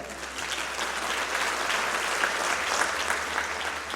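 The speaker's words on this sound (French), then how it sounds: "Et je vous demande d'applaudir Mathieu Tordeur." An audience at a corporate client evening bursts into sustained applause for Mathieu Tordeur, a full, even wash of many hands clapping at once that holds steady throughout.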